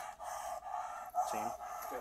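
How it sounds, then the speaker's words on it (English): A dog pants rapidly and lets out high strained whines during a police hotel room search, close and fairly faint, with a voice speaking over it. "Listen to how that dog is screeching though."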